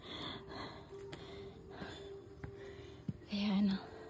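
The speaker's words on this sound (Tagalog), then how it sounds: "Ako rin naman hinihingal." Heavy panting of hikers climbing uphill toward waterfalls at a Samal Island beach resort, quiet breathy gasps and puffs close by, with a louder exhale near the end.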